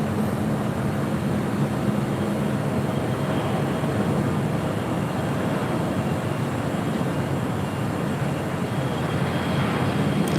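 A jet airliner roars in on approach to LAX, a steady broadband rumble and hiss held at constant loudness throughout, fairly near, with no voices.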